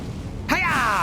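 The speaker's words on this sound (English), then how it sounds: "Well, the explosion still hit me." A sudden burst hitting the player character in the Elden Ring video game, a sharp blast onset followed by a bright, ringing falling tone that lingers to the end, heard loud and alone.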